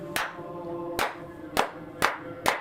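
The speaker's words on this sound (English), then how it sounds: "and is clapping for you" A man in a long robe with golden edging claps his hands in a room, five sharp, distinct claps spaced irregularly, the first three about half a second apart or more and the last two quicker, each ringing briefly in the space.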